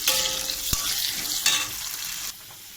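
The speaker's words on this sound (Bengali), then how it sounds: "আলুটাকে আমি একটু তেলে দিয়ে দেবো, লাল করে ভাজবো আলুটা" Potato pieces frying in hot oil until reddish-brown, a steady bright sizzle with a sharp clatter near the start, continuing loud and even before dropping off abruptly toward the end.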